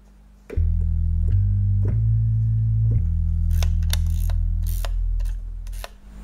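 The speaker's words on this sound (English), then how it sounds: "it does still have a pedal register" Deep, sustained clonewheel organ pedal bass notes from a Ferrofish B4000+ module played one after another, each held and shifting in pitch, followed by some light clicking and tapping noises.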